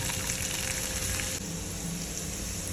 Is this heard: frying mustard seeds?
yes